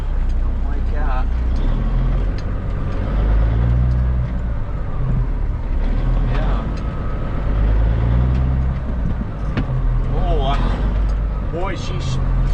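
Kenworth K100E Aerodyne cabover truck with a 13-speed transmission running steadily, its diesel drone rising and falling through gear changes, with brief whines and clunks and people talking in the cab.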